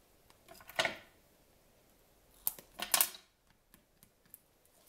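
Two short bursts of scissors snipping ribbon and rustling, with a few light clicks and taps between them, close and crisp against a quiet background.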